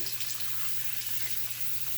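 A tap runs steadily into a basin of water for soaking period-stained underwear, a continuous close rushing stream with no voices.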